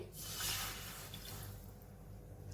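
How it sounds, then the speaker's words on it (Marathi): A bowl of water poured into a kadhai while cooking, a soft steady splash and trickle that swells early then settles into a quieter wash, with no talk. "याच कढईमध्ये मी एक वाटी पाणी घेतेय"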